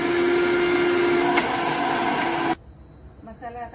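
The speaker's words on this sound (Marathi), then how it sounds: "वाटून घेते।" A mixer grinder whirs loudly and steadily as it grinds roasted masala, then cuts off abruptly, leaving quieter room noise and a voice speaking briefly afterward.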